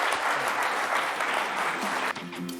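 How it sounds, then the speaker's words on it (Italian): Studio applause on a sports television programme, brisk steady clapping from a small audience with a voice speaking under it toward the end. "Allora facciamo l'applauso ad Alberto"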